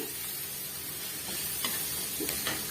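Soft, steady sizzle of onions sautéing in a pan, with a few faint stirring scrapes near the end.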